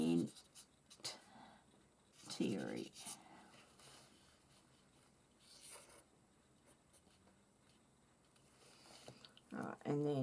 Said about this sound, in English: we're going to write smaller